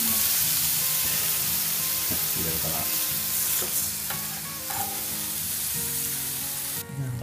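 Bacon fries in a Smart Bacon Express cooker with a dense, steady sizzle and crackle close by. Small sharp spits and pops scatter through it, and no voices are heard.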